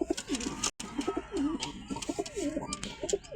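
A white pigeon in a backyard loft setup cooing close by, repeated throaty rolling coos in quick succession with a brief cut partway.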